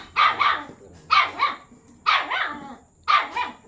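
An angry puppy barks in four loud, separate bursts, each a quick double or triple yap, spaced about a second apart and close by.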